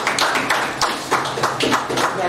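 An audience claps for a prize winner at a Day of the African Child event, a brief burst of scattered hand claps close by with a voice speaking over it.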